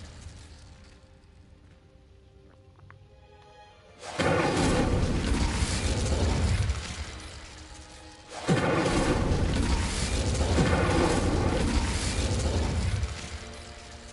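Confringo fire spell blasting candelabras in the video game Hogwarts Legacy, heard as two loud, deep explosive bursts a few seconds apart, each a broad roaring boom that lingers before fading, with no talk over them.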